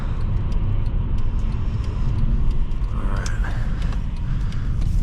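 Cabin rumble of a 2015 Mercedes-Benz E350 4MATIC turning in sport mode, a continuous low engine and road drone with faint clicks over it.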